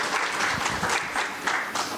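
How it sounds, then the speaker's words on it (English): Conference audience applause after a speaker's talk, a steady mid-level patter of clapping hands from a crowd filling the full two seconds. "A round of applause again for Witumelo."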